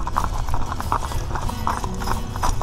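Hooves of a mule team clip-clop steadily as they pull a wagon around a town square in Shelbyville, Tennessee, an even, close rhythmic clatter over a low rumble of the wagon rolling.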